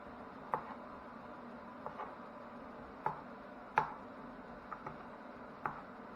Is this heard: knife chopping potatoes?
yes